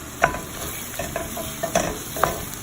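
Onion and tomato sautéing in a pan for chicken soup with pasta, a steady sizzle broken by a few sharp scrapes and clinks of a spoon stirring, close and moderately loud, with no talking.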